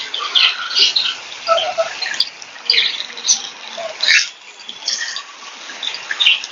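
Water is being squeezed by hand out of grated cassava in a home kitchen, preparing Kerala puttu: close, intermittent wet trickles, drips and squelches in short bursts, with no talking.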